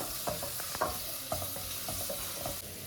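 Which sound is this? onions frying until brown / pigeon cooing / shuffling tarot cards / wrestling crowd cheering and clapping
onions frying until brown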